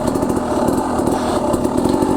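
An enduro dirt bike engine held at high revs, a loud, buzzy, continuous drone up close that stays nearly level throughout with slight throttle flutter and no voices.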